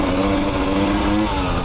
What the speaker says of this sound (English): these counterbalance two-stroke TPI motors, holy Jezebel, do they run crisp and clean